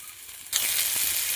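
Bitter gourd and potatoes hit hot oil in a pan with a sudden loud sizzle halfway through, after a quiet start, then keep frying in a steady close crackle.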